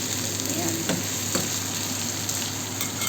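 Eggplant, onion and tofu sizzle steadily in hot oil in a pan, a continuous close crackle and hiss with occasional stirring clinks, no talking.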